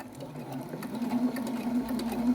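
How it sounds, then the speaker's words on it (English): A sewing machine runs steadily, stitching two lightweight fabric pieces face to face with a wide seam allowance, giving a continuous close mechanical hum with a fast even rattle throughout. "we're going to start by sewing this face to face with a good, nice, wide seam allowance"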